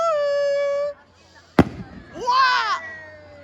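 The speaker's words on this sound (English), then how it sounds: "Welcome back to Swanage Carnival Fireworks." Fireworks at the Swanage Carnival second display: a sharp loud bang cuts in after a steady tone, followed by crackling bursts and a shower of whistling, fizzing sparks, with cheering voices nearby.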